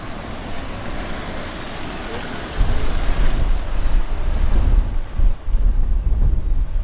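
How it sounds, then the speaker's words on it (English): Strong wind buffets the microphone in heavy gusts over a constant roar of surf at Kilauea Point on Kauai, growing louder partway through. "Unfortunately, it's a little windy today. Or maybe I should say it's a lot windy."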